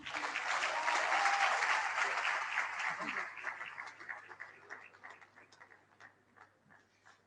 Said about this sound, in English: Can we give him another rousing applause?